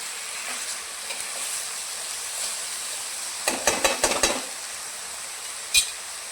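Sprouted moth bean curry stirred in a pan, a brief cluster of scraping, clattering strokes over a steady background sizzle, ending with one sharp knock.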